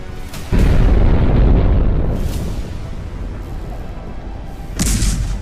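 A heavy, deep explosion erupts, followed by a long rumbling decay, then another blast bursts out near the end.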